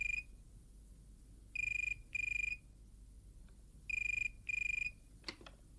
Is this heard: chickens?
no